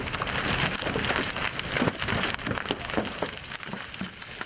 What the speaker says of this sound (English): you can hear what turned out to be golf ball-sized hail hitting the road and a nearby truck